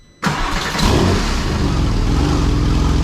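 A stripped-down Porsche 996 Turbo engine starts abruptly and runs loud and close, with a rising rev that settles into a steady, rough roar.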